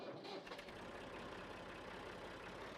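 A 45-horsepower Massey Ferguson tractor engine in Farming Simulator idles with a steady low rumble and faint rhythmic chug, quiet and continuous after a brief shift at the start.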